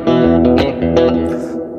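Electric guitar through a Line6 HX Stomp XL on a preset, a short bright melodic phrase with a few picked notes, drenched in reverb and chorus, loud and up front.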